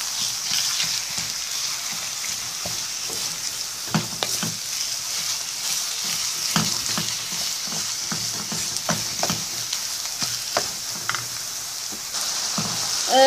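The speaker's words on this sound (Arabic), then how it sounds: "دابا غادي نضيف لها الكفته ديالي ديال الدجاج كتشوفو، وغادي نبقى نضغط عليها حتى تفرتت لينا هاد السخونيه، نحرك حتى تفرتت" Minced chicken kefta fries in a hot pan with a constant sizzle, punctuated by frequent knocks and scrapes as it is stirred and pressed apart.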